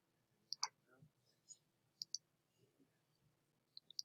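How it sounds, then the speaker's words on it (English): A computer mouse clicks in quiet, sharp single and double clicks, scattered irregularly and faint, with no talking. "It's like the mouse is stuck."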